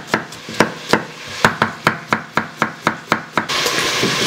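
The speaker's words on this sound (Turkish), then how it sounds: "Bir adet soğanımızı yemeklik doğrayacağız." An onion sliced on a cutting board with a knife: about a dozen crisp, evenly spaced chops in quick rhythm, close and clear, ending in a brief rustle of handling.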